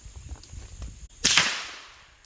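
A single sharp supersonic crack from a 9mm carbine bullet at a chronograph range rings out loud after faint low rumbling, then decays over about a second.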